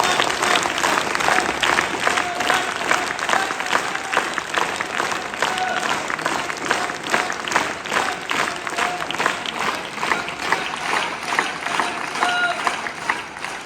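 Sustained audience applause at an outdoor Punjabi street play (nukkad natak), dense and steady hand-clapping throughout, loud and close, with a faint hum and occasional voices beneath.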